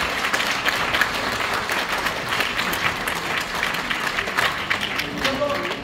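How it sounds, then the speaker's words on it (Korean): A crowd of people applauds at a community event in Seongnam, South Korea, with dense, continuous clapping that holds steady throughout and voices mixed into the noise. "시원하게 박수 한번 주시죠"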